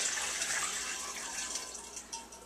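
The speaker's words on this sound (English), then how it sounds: "And I just used a little pure faucet filter for this part." Tap water runs steadily through a faucet filter in a kitchen sink while brewing wort, a close, even hiss and splash with no talk.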